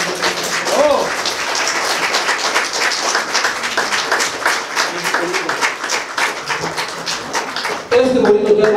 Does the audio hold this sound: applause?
yes